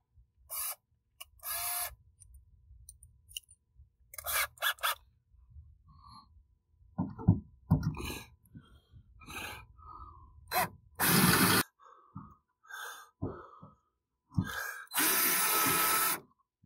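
Intermittent bursts of a small power drill whirring during repair of an Infiniti G37 convertible trim gear, short runs separated by quiet gaps and faint handling clicks, close by.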